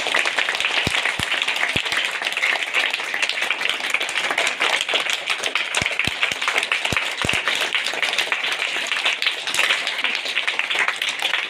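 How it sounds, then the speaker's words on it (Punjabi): A crowd claps at a school award ceremony for a headmaster, a dense, loud, sustained burst of applause with a few sharper individual claps standing out. "ਉਹਨਾਂ ਵਾਸਤੇ ਤਾੜੀਆਂ ਵੀ ਹੋਣੀਆਂ ਚਾਹੀਦੀਆਂ ਨੇ"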